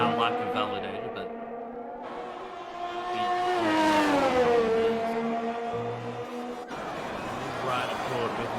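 Formula 1 race car engine screaming through a hot lap at the Singapore circuit in an F1 video game, a loud sustained whine that climbs and falls with gear changes, with commentary talking over it throughout.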